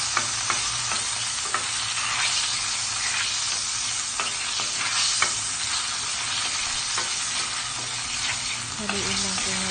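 Ginger sizzling in margarine in a pan for squid adobo, a dense continuous frying hiss close up, broken by small pops and occasional scrapes of stirring, with no talking.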